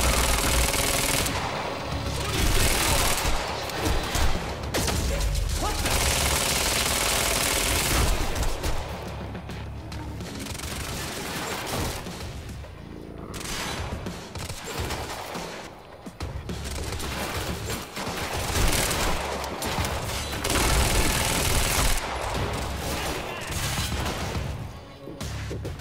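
Dense gunfire from the video game Quantum Break rattles in long, loud automatic bursts with heavy impacts and crashes, broken by brief lulls, all close and continuous over most of the stretch.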